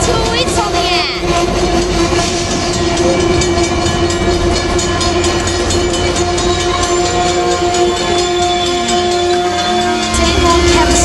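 Amtrak NPCU 90208 rolling past on the Surf Line near San Juan Capistrano, a loud continuous rumble with steady tonal drone and rail clatter, close and sustained throughout.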